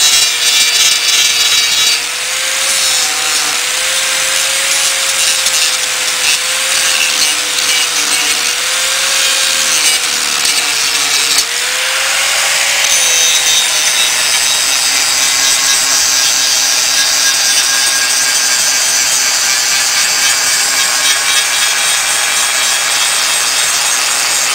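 Power grinder carving a small wooden propeller blade, a steady abrasive whir with a wavering motor pitch and rough sanding rasp across the wood, loud and continuous throughout with no talking.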